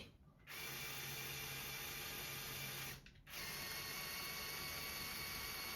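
Small electric motors drive the LEGO Technic 8043 excavator, a loud close whirring with ratcheting gear noise that runs steadily, stops briefly near the start and again around three seconds, then resumes.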